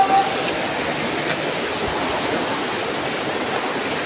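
Strong, steady rush of a mountain stream or waterfall of clear water, a continuous broadband roar with no pauses, fairly close and loud.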